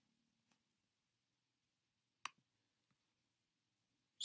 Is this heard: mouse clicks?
yes